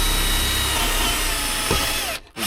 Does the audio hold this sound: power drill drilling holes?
yes